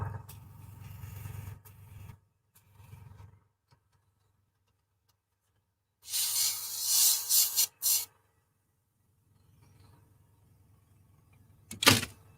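Short bursts of an aerosol spray paint misting small plastic swivel parts for an ICM B-26 model kit, a loud hiss lasting about two seconds with a brief second puff, between quiet handling clicks and faint low hum.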